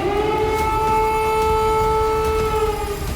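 An air raid warning siren wails across Kyiv, a loud sustained tonal howl holding steady pitch with harmonics, heard continuously throughout with no speech.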